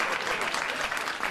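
Studio audience clapping at a televised comedy monologue, a brief, steady burst of many hands applauding at moderate loudness with no voices over it.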